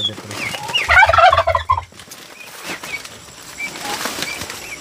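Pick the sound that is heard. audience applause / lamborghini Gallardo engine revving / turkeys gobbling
turkeys gobbling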